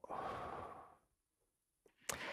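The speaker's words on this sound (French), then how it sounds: "on va faire une respiration" A slow, deep exhale during a breathing exercise, heard close and alone, fading into quiet before a short inhale and a sharper breath at the end.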